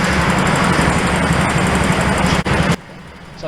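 A go-kart engine idles roughly on the starting grid, a loud steady rattling drone close to the listener that cuts off abruptly near the end.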